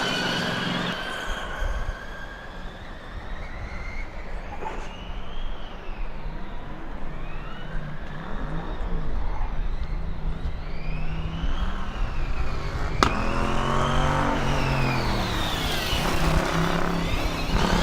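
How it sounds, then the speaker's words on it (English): Formula Student race car on an autocross lap at FSG22, its V8-like engine revving and shifting repeatedly with rising and falling pitch as it passes, loud and sustained under an ambient crowd-and-track din. "It sounds like a V8."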